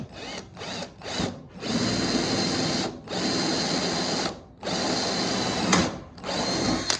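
A power drill drives screws into wood, whirring in several bursts: short stabs at first, then longer sustained runs, loud and close with brief pauses between.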